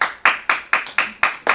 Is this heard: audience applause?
yes